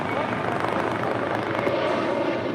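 A jet taking off from runway 25 right at Los Angeles airport, a steady broadband roar heard from a distance and holding level throughout, with no clear voices over it.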